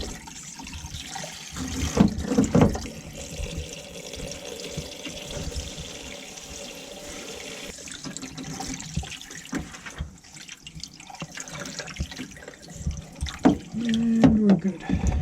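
Hot water runs from a faucet into the bathroom sink of a 2020 Coachmen Beyond 22C RV, a steady hiss and splash with a few clunks and faint talk.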